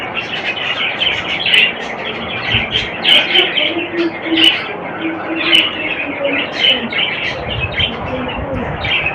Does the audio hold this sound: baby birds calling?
yes